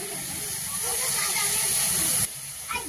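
Water hits a hot pan of salted, turmeric-seasoned pumpkin, giving a loud, steady steamy hiss for about two seconds that then cuts off sharply, leaving a quieter background.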